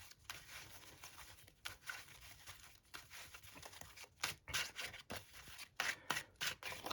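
A sorted deck of trading cards for a Pure Centurion build being shuffled by hand, with soft rubbing and riffling card noise in repeated bursts that grow sharper and louder toward the end.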